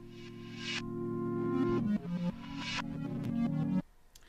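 Chopped sample from a song, sustained harmonic tones in short sliced segments that cut off abruptly, played quietly with no talking.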